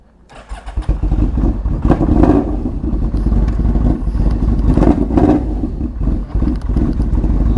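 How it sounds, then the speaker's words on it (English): A Yamaha V-Max motorcycle fitted with a 4-into-1 Voodoo exhaust warms up, starting from quiet into a loud, deep, rumbling idle with periodic revs, close by and alone. "We'll let it warm up real quick. This does have a 4-into-1 Voodoo exhaust. So she sounds mean, man."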